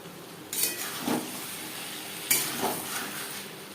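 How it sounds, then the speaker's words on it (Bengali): Garam masala powder being stirred into a potato and cauliflower curry for a chitol fish jhol, with a few scraping stirs and soft clinks of a spoon against the pan over a faint sizzle. "আলু ফুলকপির সাথে গরম মশলা পাউডার মিক্সড করে দেব"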